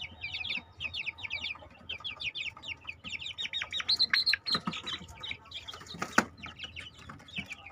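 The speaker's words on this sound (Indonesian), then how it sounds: "Ini anakan ayam sehat ini." Young chicks peep and chirp in rapid, high-pitched bursts, a busy chorus close by, with a few louder squawks and rustles mixed in.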